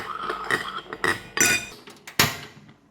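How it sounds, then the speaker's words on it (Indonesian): Utensil clinking and scraping against a cooking pot as ingredients with soy sauce and water are stirred, several distinct metallic knocks over a few seconds, close and fairly loud with no talking. "Aduk-aduk."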